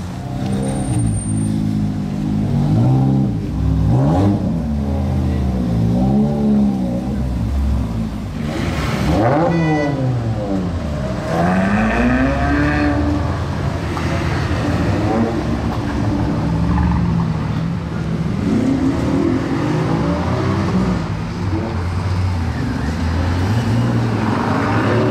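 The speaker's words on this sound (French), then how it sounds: "j'entends des bruits là-bas. C'est l'Aventador." A Lamborghini Aventador's engine revs and roars in repeated rising and falling bursts on a Paris street near Place Vauban, loud and fairly close, with other traffic rumbling around it.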